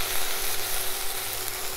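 Tomato paste and carrot frying in a pan give a steady, bright sizzle that runs continuously and close, with no voices over it.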